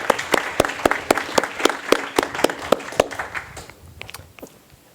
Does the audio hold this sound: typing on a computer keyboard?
no